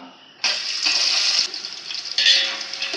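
Whole spices fry in hot oil for a chicken biryani, giving a loud, steady sizzle that starts suddenly and swells in two bursts, heard up close with no talking.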